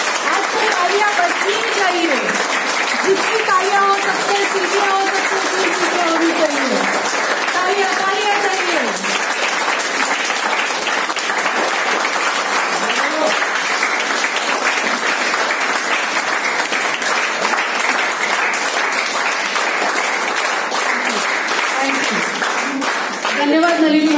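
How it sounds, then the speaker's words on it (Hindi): A crowd at a Women's Day celebration in an office claps loudly and continuously for over twenty seconds, with voices calling out over the dense applause. "जितनी तालियां हो सकते हैं, सीटियां हो सकते हैं, सीटियां होगी।"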